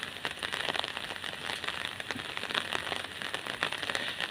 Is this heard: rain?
yes